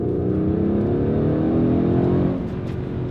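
A Mercedes-AMG GLC 63 S Coupe V8 revs up in one long rising pull, loud and close, then settles lower near the end, with no talk.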